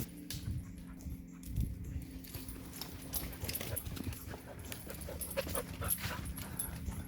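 Dogs pant and shuffle close by on a wintertime bush walk, with rustling footsteps and scattered movement noise throughout.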